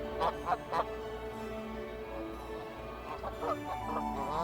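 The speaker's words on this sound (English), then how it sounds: "Geese have 13 different types of calls, from clucking to murmurs." Canada geese give repeated honking, clucking calls in short bursts, clear but moderately distant over a low steady background hum, with no talk.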